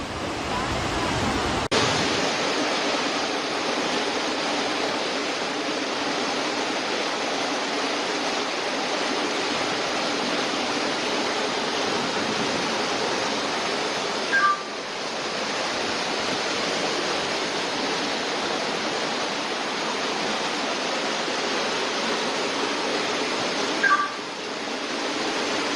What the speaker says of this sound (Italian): Fuori casa mia, la macchina della Martina trasportata via dall'acqua.